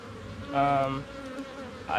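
Honey bees in hive number 8 during an inspection, with a close buzzing drone that swells for about half a second and a second brief buzz near the end over a low hum.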